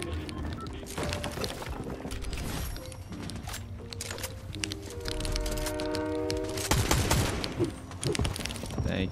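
Rapid bursts of gunfire in Fortnite Chapter 5 rattle through a busy mix of game sounds, with heavier volleys near the start and again near the end and tonal effects in between.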